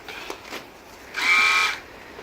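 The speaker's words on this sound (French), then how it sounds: "Vous prenez votre tondeuse." Electric horse clippers buzz on briefly for about half a second, a high whirring hum after a couple of faint clicks.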